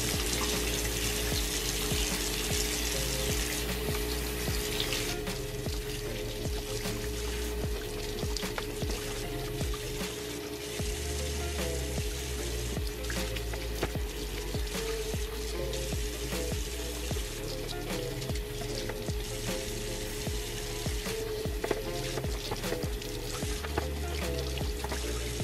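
Steady running tap water splashes continuously into a sink while makeup brushes are rinsed and squeezed clean, a dense unbroken rush with no talking.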